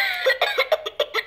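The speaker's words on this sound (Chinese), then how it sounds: "哇，咳嗽，他还咳嗽啊。" Rapid run of short electronic coughs from a toy ambulance patient doll, about eight bursts in quick succession, close and clear.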